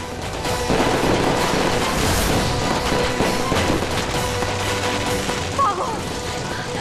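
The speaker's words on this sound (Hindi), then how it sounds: "ये आतिशबाजी हमारे ऊपर क्यों आ रही है?" Rapid bursts of fireworks explode close by, a dense rolling crackle and bang that continues for the whole stretch, loud and packed together like a fusillade.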